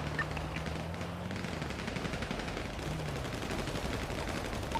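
Gunfire in GTA V during a NoPixel roleplay police shootout, dense rapid crackling shots running continuously as a loud wash of noise without pause.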